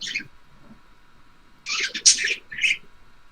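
Pet birds chirp in short, bright, close calls: a brief call at first, then a pause, then a louder cluster of chirps and a final tweet.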